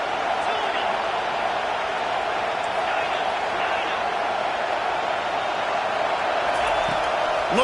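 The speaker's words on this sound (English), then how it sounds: "Here comes this home crowd as the defense tries to get off the field on 3rd down" Steady roar of a home crowd in a college football video game, Cornhuskers against Huskies on a third-down defensive stand, a dense continuous wash of cheering throughout, with no clear peaks.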